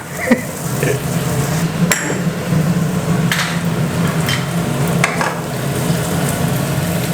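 Chili, garlic and fish sizzle in a hot pan, a steady loud frying hiss with occasional sharp metallic clinks of a spatula striking the pan, close by and without talking.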